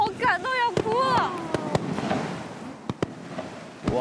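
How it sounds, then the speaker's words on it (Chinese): Fireworks go off over the seaside at night: rising whistles lead into a series of sharp bangs and crackles at moderate distance, while excited voices talk and exclaim in between. "我也很想放烟花呀！"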